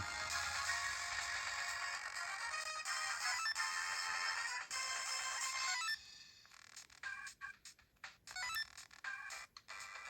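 Loud, bright Sonic Advance platform game music on a Miyoo Mini Plus handheld, with chiming melodic tones, breaking into choppier bursts of beeps and sound effects in the second half.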